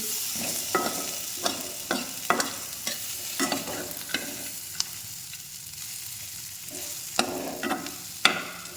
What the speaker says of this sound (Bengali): ভাজতে হবে, সামান্য, খুব বেশি ভাজবো না, সামান্য একটু ভাজবো।